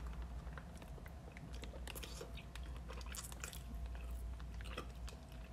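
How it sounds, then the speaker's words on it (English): Someone eats a salted and peppered boiled egg from a seafood boil, with close, quiet chewing and soft crunchy bites over a steady low background hum. "I'm going to start out with the egg first."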